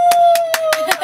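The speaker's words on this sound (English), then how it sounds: "I know you want to clap." An audience claps hands in a Lagos radio studio, with a handful of sharp distinct claps in an uneven rhythm sounding close and loud over a steady tone.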